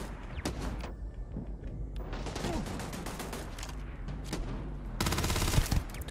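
Gunfire from a Starfield firefight rattles in repeated bursts and sharp single shots, with a dense loud volley near the end, all fairly close.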